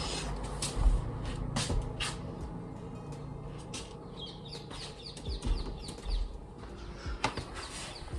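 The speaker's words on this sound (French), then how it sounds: "vous avez eu un petit intermède d'oiseaux" Birds chirp outdoors in short, faint bursts over a steady background hiss, with a few louder rustles and flutters scattered through.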